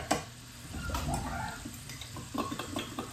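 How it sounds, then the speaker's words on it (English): Egg roll in a bowl ingredients being stirred in a hot pan: quiet sizzling under intermittent scraping and clinking strokes of a utensil against the pan, close up and without talk. "Then I just want to give it a stir, bring it together."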